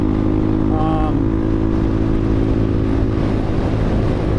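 A CSC TT250 motorcycle with a 45-tooth rear sprocket cruises on the freeway near its top speed, a loud, steady engine drone blended with rushing wind heard from the rider's helmet.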